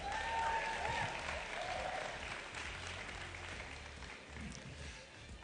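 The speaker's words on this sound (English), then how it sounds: "Please give them a big round of applause." An audience at the Mister South Africa 2024 grand final gives a sustained round of applause, a dense wash of clapping that slowly tapers off with some voices beneath.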